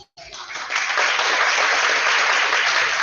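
Concert audience at a holiday Latin jazz youth ensemble performance breaks into loud, sustained applause that swells quickly and holds steady.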